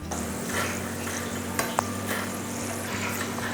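Potatoes crisping in hot oil for a Kerala-style potato mixture snack, a continuous close sizzle with a couple of sharp metallic clinks from a spoon or ladle.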